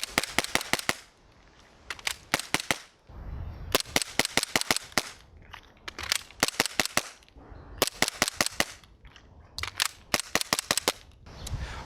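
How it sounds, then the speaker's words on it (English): Pistol shots crack out in rapid strings on a range, bursts of several rounds broken by short pauses where the shooter reloads, each report sharp and loud with no talking. "maybe I'm firing and then the gun has run empty and I need to reload"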